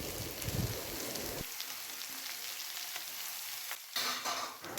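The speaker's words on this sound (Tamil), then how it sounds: "வெஜிடபிள்ஸ் எல்லாம் நல்லா வணங்கி வரணும்" Chopped carrot, beans and capsicum stir-fry in a hot pan for chicken fried rice, giving a steady loud sizzle that briefly drops and then rises again as they are moved around.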